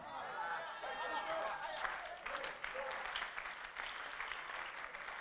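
A congregation at a church sermon claps with scattered chatter and light laughter underneath, the applause building in the middle and staying fairly even, somewhat distant and soft.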